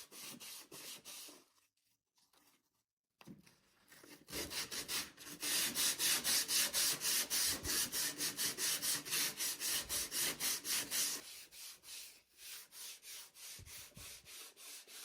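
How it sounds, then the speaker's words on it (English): Hand sanding with sandpaper on the body of a 1963 Chevrolet C10 truck: steady rhythmic back-and-forth rasping strokes, close and clear, starting after a short pause and continuing in a fast even cadence. "Just kind of letting the sandpaper do most of the work."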